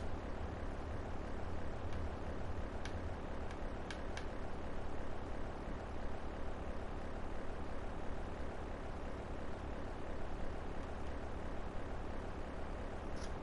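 Airplane engine droning steadily in Grand Theft Auto 3 while flying over Liberty City, a continuous broadband hum with a low rumble, constant and fairly close for the whole stretch.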